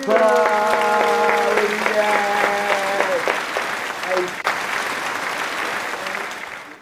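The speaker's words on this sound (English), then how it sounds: "let's give a nice round of applause to fucking Jupiter" A round of applause for a guest named Jupiter on a talk show, crowd clapping continuing under a sustained musical tone at first, then fading steadily toward the end.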